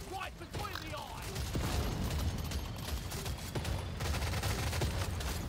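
Rapid gunfire from a Smart Rifle in Deep Rock Galactic Survivor, a dense, steady stream of shots running the whole time at a constant loud level, mixed with game effects and voice-like sounds.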